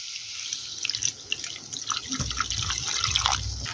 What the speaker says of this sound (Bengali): এবার এতে দেব পরিমাণ মতো জল।